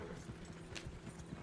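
Horse hooves clip-clop in an even walking rhythm in Red Dead Redemption 2, faint and steady, with a brief brighter hiss partway through.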